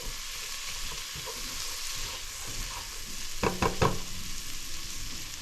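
Frozen vegetables, no celery, frying in a single pot for chicken pot pie, a steady close sizzle with a few sharp stirring clatters partway through.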